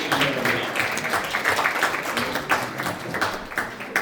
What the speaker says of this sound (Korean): 다시 한번 박수로 보내주시기 바랍니다.